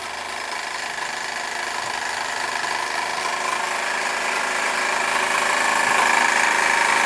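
A small Bowman engine drives a model windmill through a reduction gear, giving a steady, even whir that builds slightly louder over several seconds, close by with no talk.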